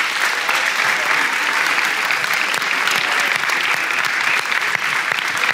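Dense, continuous audience applause fills a hall for a poet at a poetry reading, loud and even throughout with no breaks.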